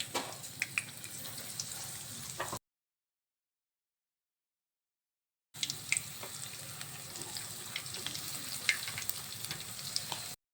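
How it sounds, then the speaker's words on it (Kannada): Ridge gourd bonda dipped in batter frying in hot oil, a steady close crackling sizzle broken by a silent gap in the middle. "ಆ ಹೀರೆಕಾಯಿನ ಒಂದೊಂದೇ ಹಿಟ್ಟಲ್ಲಿ ಡಿಪ್ ಮಾಡಿ ಇವಾಗ ಕಾದಿದೆ ಎಣ್ಣೆ ಇದಕ್ಕೆ ಇವಾಗ ಹಾಕ್ತಾ ಇದ್ದೀವಿ."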